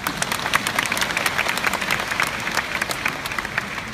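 An audience claps together during a Buddhist talk in Singapore, a dense burst of applause that holds steady and close, then thins slightly at the end.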